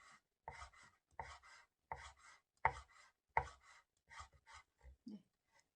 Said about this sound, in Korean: 요거는 이제 다질 겁니다